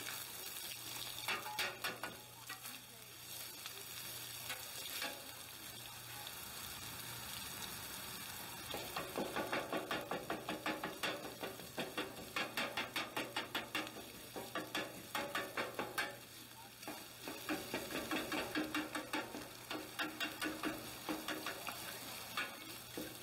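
Sausage with onions and peppers sizzles steadily in a frying pan while a utensil chops and stirs it, giving a continuous fry with repeated close scraping taps.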